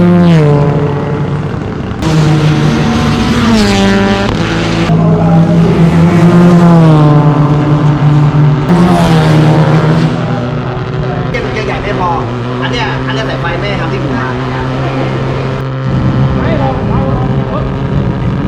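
A rotary-engine Mazda RX-7 race car making about 450 horsepower drives past with a loud, buzzing engine whose pitch rises and falls through gear changes, close and sustained, while people talk over it.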